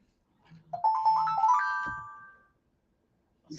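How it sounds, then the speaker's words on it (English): A phone's text message notification plays a short rising melodic chime of bright tones lasting about two seconds, clear and close in otherwise quiet surroundings. "Oh, somebody texted me again."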